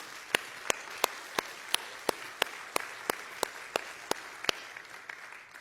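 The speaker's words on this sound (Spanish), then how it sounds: "Dale un fuerte aplauso al Señor." A church congregation claps in slow, even unison, with a single sharp beat roughly every third of a second. The claps are distinct and moderately distant over a quiet, hushed room.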